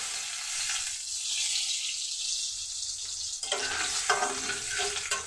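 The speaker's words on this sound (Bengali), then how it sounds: "ফোড়নটা আমার ভাজা হয়ে গেছে।" Whole cumin, green chili and bay leaf sizzle in hot oil as a tempering for karami saag ghonto, a steady close hiss that turns louder and crackly partway through.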